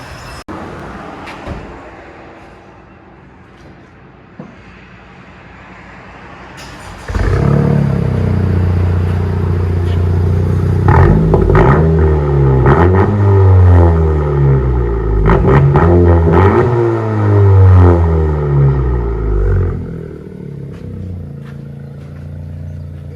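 A 2018 Honda Civic Si with a straight-pipe exhaust idles quietly, then fires up loud and close, revving repeatedly in rising and falling sweeps before settling back down.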